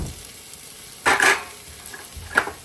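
Spicy kankoda curry frying in a pan is stirred in two short scraping bursts, the first longer and louder, over a faint low sizzle.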